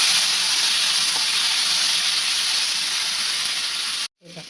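Tomatoes, garlic and ginger sizzle steadily and loudly in a hot pan, a dense continuous frying hiss that cuts off abruptly near the end, followed by faint stirring.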